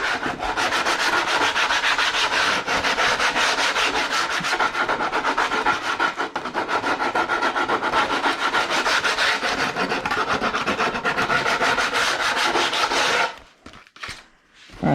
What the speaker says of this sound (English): let's grab a little bit of sandpaper